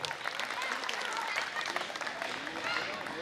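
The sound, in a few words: audience applauding the students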